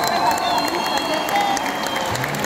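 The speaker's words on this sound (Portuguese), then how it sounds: "a quem eu peço uma grande salva de palmas" Concert crowd applauding and cheering a guest performer at a live show, a loud continuous roar of clapping and voices with some shouting mixed in.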